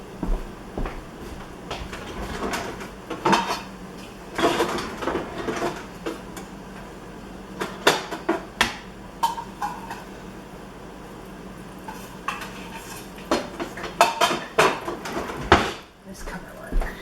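Pots, pans and lids clatter and clank in a home kitchen as someone rummages for a pot cover, irregular metallic knocks and scrapes scattered throughout, close by, with faint intermittent talk.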